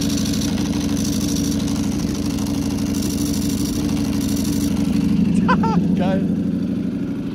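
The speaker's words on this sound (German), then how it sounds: "Ich kann mal hier ganz kurz die Kupplung betätigen, damit ihr das Klackern ein bisschen von der Trockenkupplung hört." A Ducati Panigale V4 SP2 motorcycle idles steadily with a loud, even engine drone, and near the end its dry clutch is worked, adding a few brief clattering rattles over the idle.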